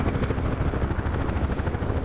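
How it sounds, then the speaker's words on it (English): A UH-1 Huey helicopter in a VR flight combat game gives off a continuous, close, loud rotor thump and turbine roar that stays steady and unbroken. "It's actually kind of a neat dealio with the Huey."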